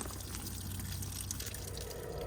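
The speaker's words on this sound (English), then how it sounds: "if you turn it to the side, you'll see that the water's coming out of the boiler" Water draining out of the boiler of a 2024 Swift Carrera 144 caravan, a steady low trickle and splash running continuously at close range with no talk.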